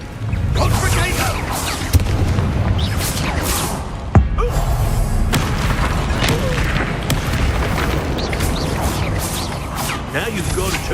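Confringo fire-blast spells exploding during combat in the game Hogwarts Legacy: a couple of sharp, punchy booms stand out over a dense, continuous wash of battle effects and rumbling.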